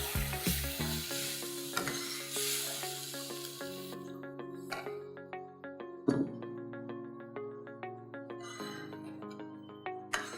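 Buttermilk poured into a hot pan while cooking Kali nu Shak, a Gujarati dish, giving steady close sizzling and frying hiss that shifts and bubbles over about ten seconds with no talk.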